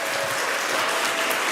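A church congregation applauding a Sunday sermon, a dense, even wash of clapping from many hands at steady volume throughout.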